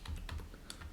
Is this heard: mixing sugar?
no